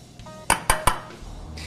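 Three sharp clinks of utensils against a bowl while a spinach and avocado salad dressed with olive oil is mixed, close and crisp over quiet room noise.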